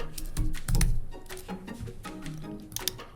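Fingers type on a computer keyboard in Logos Bible Software, a dense patter of close clicking keystrokes over a short burst.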